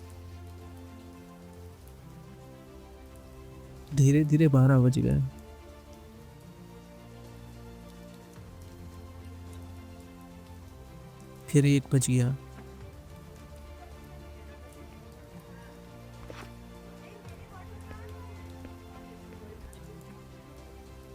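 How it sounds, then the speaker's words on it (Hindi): Steady rain patters on a surface throughout, a soft continuous hiss, while a voice speaks briefly twice over it. "तो हमने देखा बारिश अभी भी हो रही थी।"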